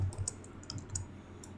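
Quiet computer keyboard typing while writing PHP code, a few scattered soft key clicks spread over a short stretch with no speech.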